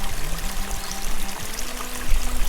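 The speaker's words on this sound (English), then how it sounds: "then you have this mountain stream that's going down the gulch" A mountain stream runs down a gulch, a continuous loud rushing and splashing of water up close with a steady low churn and no talking.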